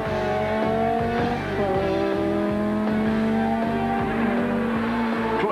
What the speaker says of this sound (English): The powerful 2-litre Daewoo engines making the most of the long straights